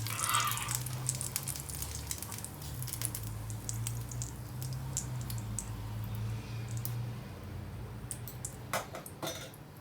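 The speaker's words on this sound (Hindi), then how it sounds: "इसी तरीके से करके मैं सारे फ्राई करती जाती हूँ।" Shami kebabs frying in a pan give off a steady, close sizzle and patter, with occasional clinks of utensils against the cookware.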